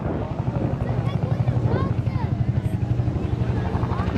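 A Bell UH-1 Huey helicopter at the Blackpool airshow gives a steady rhythmic rotor thump and engine drone from a distance, under continuous commentary.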